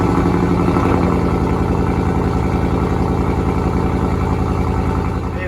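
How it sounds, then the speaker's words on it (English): A 1:6 scale Mustang GT500 model plays its engine sound through a big-exhaust effect, a loud steady rumbling idle with a pulsing throb that fades slightly at the end. "There's the sound of my Mustang with its big exhaust on it."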